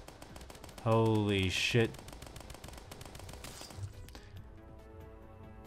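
A burst of rapid automatic gunfire rattles from a weapon in the video game Starbound, a loud volley of about a second followed by quieter game sounds, with a man exclaiming over it.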